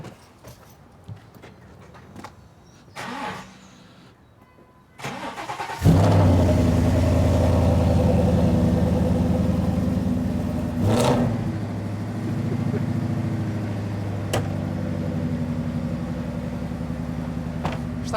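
Modified 780 hp car starting up in a garage: a few faint clicks and thumps, then the engine fires loudly at about five seconds and settles into a heavy, rumbling idle with a blip of revving partway through.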